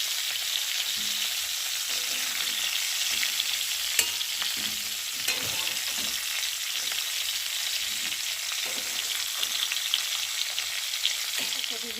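Cauliflower florets frying in hot oil in a kadai give a loud, continuous crackling sizzle, with light scraping of a spatula as pieces are lifted and shaken out.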